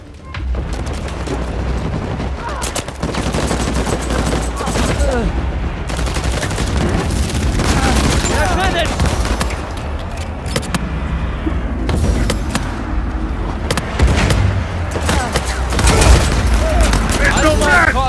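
Rapid gunfire fills an Uncharted online multiplayer match, bursts of automatic shots and booming reports layered densely over game music and effects, loud and nearly continuous, with a voice shouting over the action.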